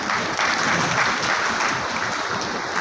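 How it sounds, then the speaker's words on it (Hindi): Loud, sustained applause from an audience at a Brahmin talent honour ceremony, greeting Vishwanath Pandya; dense, steady clapping fills the whole stretch with no break. "एक बार विश्वनाथ जी पंड्या साहब के लिए जोरदार तालियां"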